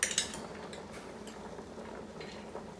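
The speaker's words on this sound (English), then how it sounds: "Usually I just get a spoon and I just rake it in there." A spoon scrapes and clinks faintly against a container while sweet relish is raked into a bowl of potato salad, with a couple of light taps at the start and then a soft, quiet scraping.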